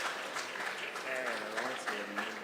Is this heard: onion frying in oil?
no